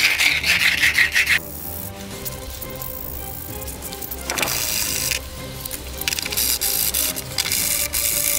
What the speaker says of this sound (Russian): Берем шкурку и вперед.